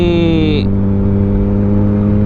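Kawasaki ZX10R KRT motorcycle with a quick-shifter screams high, then the pitch drops sharply as it shifts, settling into a loud, steady lower engine drone, close up.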